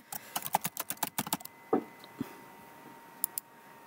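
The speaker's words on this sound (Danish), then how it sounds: "Jeg kan jo lige skrive et eller andet herovre." Rapid keystrokes on a computer keyboard in a quick run of clicks, then a few scattered taps after a pause, close and fairly quiet in a still room.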